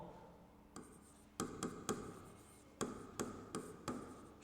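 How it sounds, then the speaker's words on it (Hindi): Chalk or marker writing on a board makes sparse, faint, sharp taps and short strokes in an irregular rhythm within a quiet room, and no voices. "यहाँ मैं लिख रहा हूँ सर्किट"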